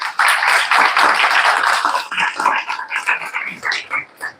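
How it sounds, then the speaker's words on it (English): Audience applause for a presenter at a start-up talk event in Hyderabad: a dense burst of clapping, loud at first, then thinning and fading into scattered claps over a few seconds. "please give a round of applause to Morten Morten"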